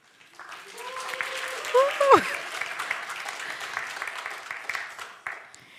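Warm applause rises from the audience at a panel session on AI and the geopolitics of sustainability, steady and moderately loud for several seconds under a presenter's voice introducing the guests, then fading out.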